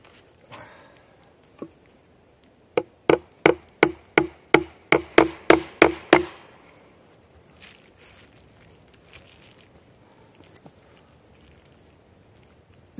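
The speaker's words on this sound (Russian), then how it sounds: "Так, нужно забить мне гвоздь." A nail is driven into wood with a rapid run of about ten sharp, evenly spaced hammer blows, close and loud, followed by quiet outdoor ambience with faint scattered knocks at a forest dugout.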